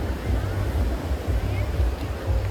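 Sea waves wash continuously at Vagator Beach in Goa, a low, churning surf roar buffeted by wind noise on the microphone.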